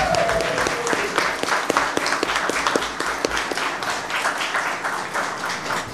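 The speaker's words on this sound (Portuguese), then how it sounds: "uma salva de palmas de alívio" An audience at a political militants' plenary applauds with steady, dense clapping for six seconds. Some louder individual claps stand out in a loose rhythm.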